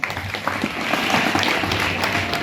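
An audience at a government high school event for Saraswati puja and tenth-class students in Ramapura, Gajendragad, bursts into dense, sustained applause, with loud, continuous clapping from many hands filling the room throughout.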